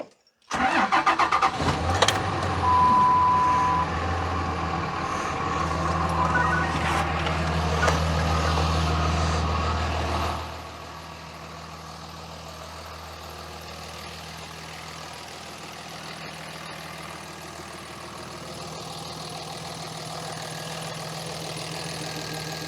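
Truck engine cranking over and catching just after an exhaust repair, then a steady loud close idle that drops to a quieter, even rumble partway through, with no talking.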